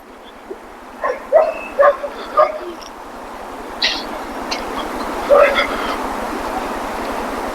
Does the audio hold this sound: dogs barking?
yes